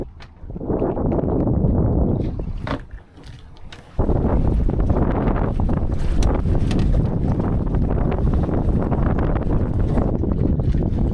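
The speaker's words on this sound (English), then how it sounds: "there's a bit of a sea breeze that's come in early" Sea breeze buffets a microphone aboard a small gaff-rigged Welsford Penguin sailboat at anchor, a loud rumbling wind roar that dips briefly before surging back strongly.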